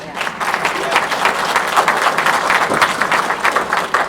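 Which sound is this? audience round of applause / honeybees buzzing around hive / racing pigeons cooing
audience round of applause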